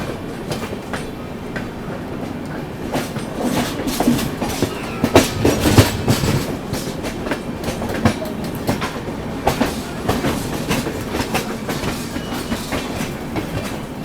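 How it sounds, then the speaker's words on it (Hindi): Purna Nagri Jan Shatabdi Express running alongside on the approach to New Delhi, a steady loud rumble of wagons with rhythmic clickety-clack wheel beats and sharp rail clatter throughout, heard up close from a neighbouring train. "तो ये निकल रही है बगल से पूर्णनगरी जन शताब्दी एक्सप्रेस"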